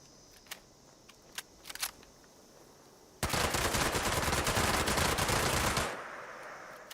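Handmade AK-style rifle in Fallout 76 emptying a full magazine, a loud continuous automatic burst of about two and a half seconds after a few faint clicks, then a fading tail with no talking.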